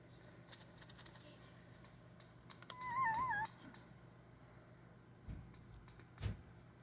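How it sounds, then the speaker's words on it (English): A deaf white kitten with blue eyes makes faint little warbling mews while eating, one brief clearer squeak standing out among soft rustles and chewing sounds in a quiet room. "every time he eats, he makes these cute little noises"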